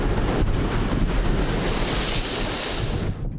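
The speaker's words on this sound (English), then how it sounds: "with big waves smashing the coastline." Big waves smash the Hong Kong coastline in strong typhoon winds, a loud continuous roar of surf with heavy wind buffeting the microphone.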